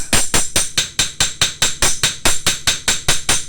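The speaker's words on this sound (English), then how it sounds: "I normally start off with fairly soft blows, and then as the blade starts to react, you can sort of hit a little bit harder" Rapid, steady hammer blows ring on a knife blade resting on an anvil, about four strikes per second, close and bright, with no talking.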